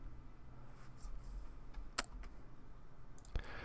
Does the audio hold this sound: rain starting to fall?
no